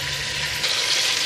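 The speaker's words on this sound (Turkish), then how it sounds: "Tavuk butlarımı güzelce kavuracağım." Skin-on chicken thighs frying in a pot, a brief steady hiss and sizzle close by with a slight rise in loudness midway.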